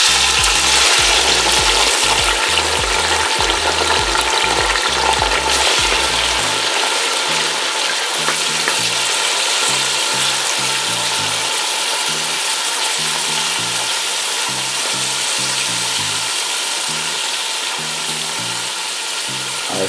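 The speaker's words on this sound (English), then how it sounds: "I saute the seasoning until the onion is transparent." Vegetable seasoning and onion sautéing in two tablespoons of vegetable oil in a pot over medium heat, a loud, continuous bright sizzle with rhythmic low thumps of stirring underneath throughout.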